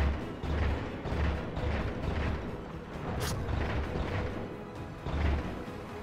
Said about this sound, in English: Firing guns in space.